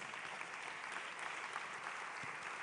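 Audience clapping at the close of a morning session of the IYES 2023 event, a steady dense wash of many hands continuing evenly throughout, fairly faint and distant.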